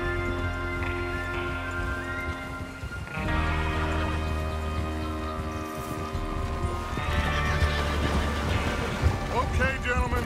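Horses whinny and neigh repeatedly while hooves clip-clop at a steady pace in Red Dead Redemption 2, close and clear, with gang members talking between the calls.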